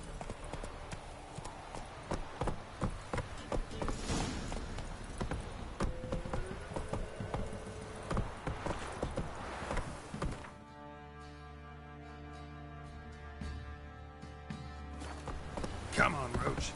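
Roach, the horse in Witcher 3, clip-clops along with steady hoofbeats over a game music bed, which grows sparser as a held musical drone takes over near the end.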